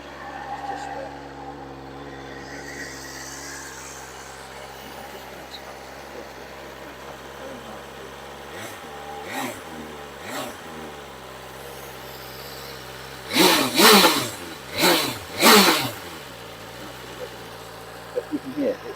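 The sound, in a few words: motorcycle engine idling and revving on cold start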